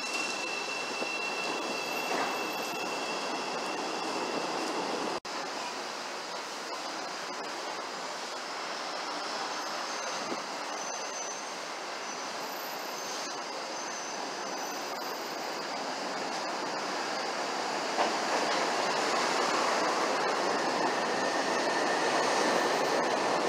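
A Chicago L train rolls between stations, heard from inside the car as a continuous rushing rumble with faint wheel squeals and metallic whines, steady and fairly loud with no talk.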